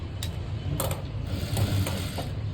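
A sewing machine puts a few stitches into a blouse with a close, clattering mechanical ticking of needle and gears that keeps a steady rhythm, and no talking.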